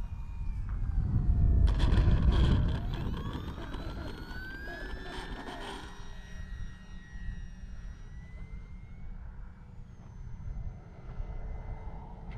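An FMS Cessna 182 Skylane RC model airplane flies in to land into the wind, its electric motor whining with gliding pitch sweeps, loudest early on and then easing to a softer drone.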